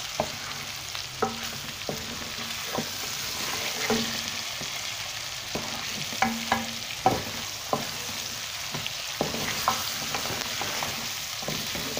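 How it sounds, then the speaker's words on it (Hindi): Chicken for korma sizzling in a pan with spices, loud and close, with a spoon or spatula scraping and clacking against the pan every second or so over the continuous frying hiss. "अब हम इसको मसाले के साथ भून रहे हैं ताकि मसाला भी थोड़ा सा भुन जाए"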